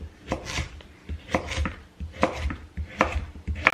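A knife chops through a kalabasa squash on a cutting board in a home kitchen: crisp, close, regular strokes, about nine firm chops in steady rhythm with no one talking.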